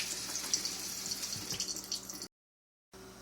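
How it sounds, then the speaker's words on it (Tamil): Tap water runs steadily over paneer being rinsed for rasgulla, a continuous close hiss and splash with small handling noises, then a brief silence before the flow resumes. "இப்போ நம்ம இது வாஷ் பண்ண போகிறோம் ரன்னிங் வாட்டரில்"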